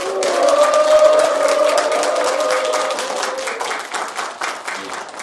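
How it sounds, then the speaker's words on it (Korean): A seated audience at a Rotary district leadership training seminar breaks into strong, full applause with voiced cheering mixed in. The cheers carry over the claps early on, then the sound tapers off. "우리 이 두 분께 함성하게 큰 박수 부탁드립니다"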